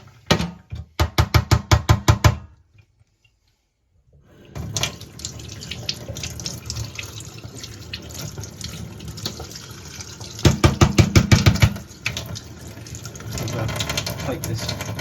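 Water runs from a kitchen tap whose clogged filter is being cleaned and flushed backwards. A steady, close rushing stream is broken by two short bursts of rhythmic clattering.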